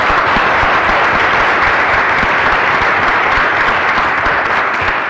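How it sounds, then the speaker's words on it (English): An audience applauds a panel after a debate between hackers and security chiefs, a loud, dense, continuous wash of clapping that holds steady for the whole stretch with no voices above it. "Could we have a round of applause, please"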